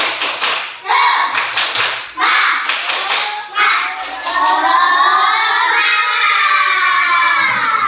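A class of children claps along in a counting rhythm game, bursts of sharp hand claps in quick groups with short gaps, followed by excited shouting and cheering voices, close and loud.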